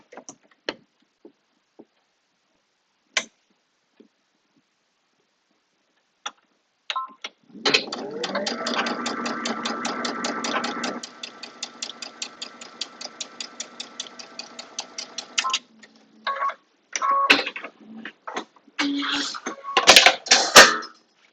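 A domestic sewing machine stitches half-square triangle quilt block pieces, a steady rapid mechanical chatter running for about eight seconds after a few isolated clicks, then lighter handling taps and fabric rustles near the end.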